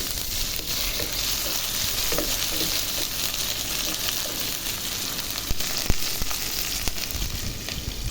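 Ginger and garlic frying in hot oil with onions, a steady dense sizzle with occasional stirring scrapes and pops, close and continuous without talk.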